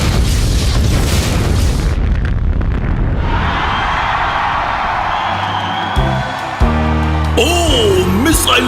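A cartoon missile slams into a small cannon with a loud booming explosion, followed by a rushing blast and rumble that fades into lighter animated effects and whooshing tones.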